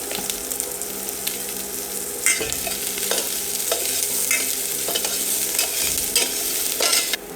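Vegetables with mustard, turmeric and salt sizzle and fry in a pan while being stirred, giving a steady close crackle broken by repeated scraping stirs, with no voices.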